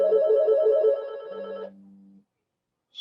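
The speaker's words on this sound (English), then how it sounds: "I like my ringtone on my Bluetooth phone." A Bluetooth phone plays its ringtone, a pulsing electronic melody heard close and clear, which shifts into a lower steady tone and then cuts off to silence.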